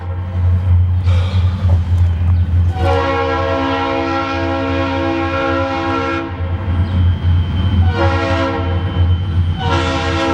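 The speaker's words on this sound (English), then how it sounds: "Here comes the train." A train passes close by, its rumbling wheels steady throughout while the horn sounds in long loud blasts, one early and another near the end.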